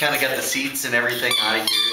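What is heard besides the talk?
dog squeaking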